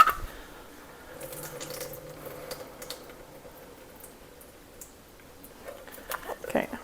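Liquid from a can of corn drains into a sink in a soft, close trickle and splash that grows busier toward the end, with a voice talking quietly over it.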